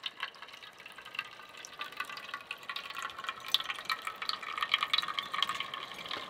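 Water passes slowly through a tannin filter, giving a steady close trickle with scattered small drips and splashes that gradually build in level, with no voices.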